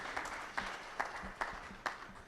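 Sparse, rhythmic clapping from a small audience at a Mumbai hotel ceremony, the 42nd Svayamvar 2018 at Hotel Sai Palace Grand, Malad West. Distinct claps arrive about every half second, fairly faint, with no voices.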